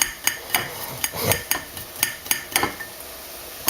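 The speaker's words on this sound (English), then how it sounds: "Slicing the garlic." Knife blade tapping steadily on a cutting board while thinly slicing garlic cloves, a quick regular series of close, crisp clicks with soft crunches in between, no talking.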